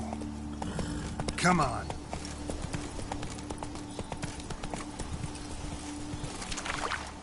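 Hooves of Roach, the horse in The Witcher 3, clip-clopping at a moderate pace under game ambience, with a brief louder burst early on. Someone speaks briefly.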